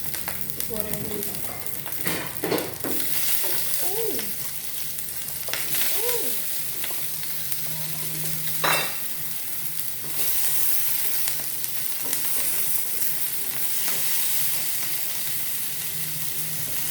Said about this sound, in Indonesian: Masukkan dulu bahan-bahannya, goreng dulu.